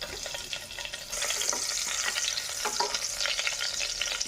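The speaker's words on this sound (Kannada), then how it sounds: "ಸ್ವಲ್ಪ ತುಪ್ಪ ಮತ್ತು ಎಣ್ಣೆಯಲ್ಲಿ ಫ್ರೈ ಮಾಡಲಿ" Whole spices and onion frying in a mix of ghee and oil, a steady close sizzle with bright crackling that swells after the first second and carries on with light stirring scrapes, no talk.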